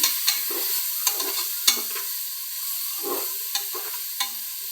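Egg masala being stirred and fried into a mushroom biryani, a spoon scraping and clacking in a sequence of sharp strokes over a steady close sizzle in the pan, with no voices.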